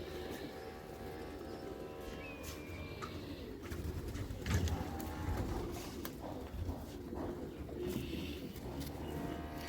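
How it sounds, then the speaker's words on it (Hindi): Pigeons belonging to Ustad Asif Jamal, a high-flying pigeon breed, coo softly and steadily amid a busy outdoor bed of rustling and distant noise, with brief louder bumps midway. "उस्ताद आसिफ जमाल साहब के कबूतर आपको दिखा रहे हैं"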